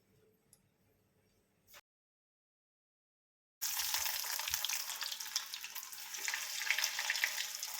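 Chicken pieces, uncoated by breadcrumbs, drop into hot coconut oil; after a brief silence a loud, steady, crackling sizzle bursts up and holds close by.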